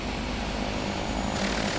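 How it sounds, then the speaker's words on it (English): Aircraft engine starting in Flight Simulator X, a continuous loud, dense roar with a faint steady whine that holds evenly throughout, no voices heard. "Right, left ignition and engine start switch on."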